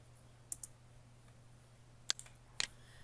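Numbers are typed on a computer keyboard in a few sparse, faint key clicks, scattered singly and in quick pairs over a quiet low hum.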